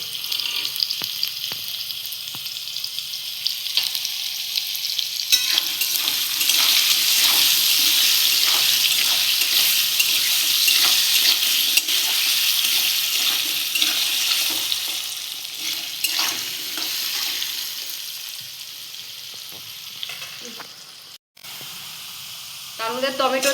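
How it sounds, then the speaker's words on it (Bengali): Potatoes frying with salt and turmeric for a vegetarian banana-blossom ghonto, a steady broad hiss of frying that swells in the middle and fades slightly toward the end, with faint clatter underneath. "লবণ হলুদ দিয়ে ভালো করে একটু ভেজে নেব আলুটা।"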